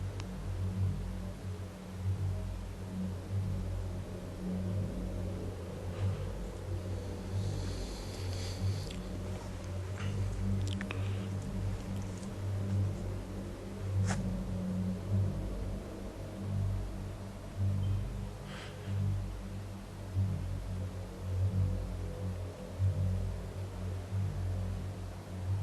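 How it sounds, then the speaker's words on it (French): Distant car traffic at night, a steady low rumble and hiss of passing vehicles far off, continuous and faint, with a few soft rustles and brief clicks close by. "Je ne pensais pas que j'entendrais encore autant les bruits de voitures à cette heure-ci."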